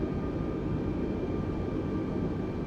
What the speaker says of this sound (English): we'll taxi onto 23 right here, and then we'll set up for runway 23 left